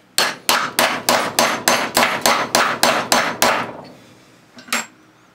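Hammer repeatedly whacking an AK barrel out of its trunnion, eleven loud, evenly spaced metallic blows close by, then a short pause and one final strike.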